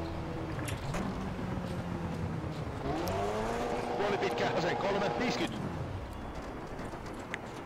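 A rally car's engine revs up and climbs through the gears on a Richard Burns Rally stage, a rising and falling whine heard near and steady, with a voice talking over it.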